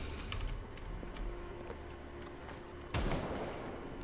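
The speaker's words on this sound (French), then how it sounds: "Qui c'est qui tire? C'est pas moi." A gunshot rings out in the zombie survival game Project Zomboid: one sharp loud crack near the end, after quieter ticking and clicking sounds.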